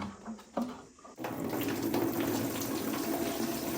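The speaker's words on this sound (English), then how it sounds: "gonna drain this water into the bucket" Water poured from a container into a bucket, a steady rushing splash starting after a couple of brief sloshes and holding on continuously close by.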